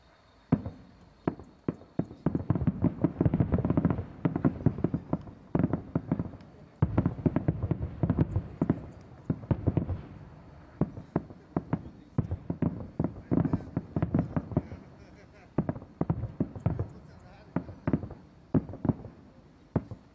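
Firework shell bursts crackle densely for about twenty seconds, a continuous rattle of sharp pops heard from a moderate distance, rising and easing in waves.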